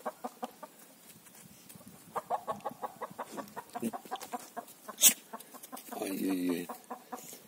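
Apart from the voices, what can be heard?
frightened chicken clucking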